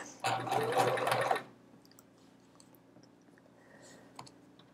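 A sewing machine stitching quilt chevrons runs in one short, dense burst of rapid needle clatter, then stops, leaving a quiet room with faint clicks and a low hum.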